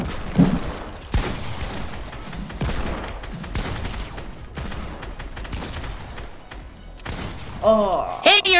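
Rapid bursts of video game gunfire crackle through a live stream match, mixed with a player's voice talking over the shots.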